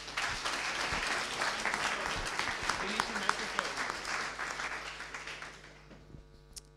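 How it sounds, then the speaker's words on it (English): A conference audience at NixCon gives a speaker a dense, sustained round of applause that stays fairly even before thinning out and fading near the end. "Give him a warm round of applause."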